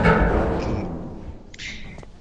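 A door swings open with a loud heavy thud in the Eyes horror game, a sharp opening bang that fades into a dim room, followed by a faint scrape near the end.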